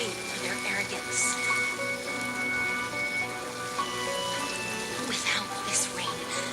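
Rain falls steadily in the Honkai: Star Rail video game, a soft continuous patter with scattered droplet ticks, layered under background music.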